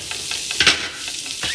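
Meat and vegetables sizzle in a hot pan while being stirred, a close, busy frying hiss broken by a few scraping strokes of a utensil over a brief stretch.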